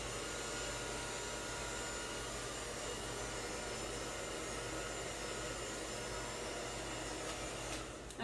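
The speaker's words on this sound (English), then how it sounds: "I'm going to take my blow dryer, nozzle into my hand, switch the round brush" Handheld blow dryer drying hair over a round brush, a steady close whooshing motor roar that holds unbroken and loud throughout, with no talking.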